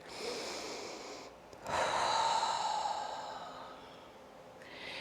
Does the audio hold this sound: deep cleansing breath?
yes